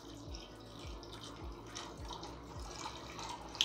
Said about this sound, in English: So we're gonna add in 2 cups of hot water.